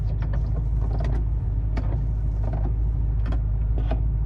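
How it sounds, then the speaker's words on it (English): Windshield wipers on a Chevrolet C4 Corvette make a single quick wipe, a steady electric motor drone with light mechanical clicks and creaks across the sweep, close and fairly loud. "you push it back to do a quick wipe with the wipers"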